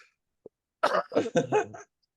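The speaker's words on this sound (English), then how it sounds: "I'm coughing." A person coughs in a quick cluster of three or four close, loud bursts after a faint brief click, with near silence on either side.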